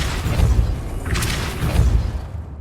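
A Depulso force spell strikes in Hogwarts Legacy, giving a muffled low boom and thud with a brief swishing crash in the middle, fairly close, then fading out at the end.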